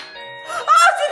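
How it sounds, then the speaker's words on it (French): A newly installed doorbell plays a short melodic ringtone, a few tones rising in a brief phrase that starts softly and then grows brighter, heard nearby indoors. "On doit choisir la sonnerie."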